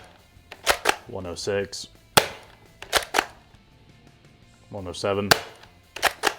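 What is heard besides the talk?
Dart Zone Mrk 2.1 foam dart blaster firing through chronograph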